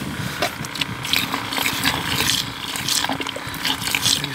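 Liquid dye is poured into water holding crappie minnows, giving a steady trickling, splashing pour with small gurgles, fairly close and with no talk.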